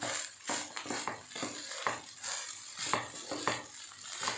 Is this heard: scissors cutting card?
no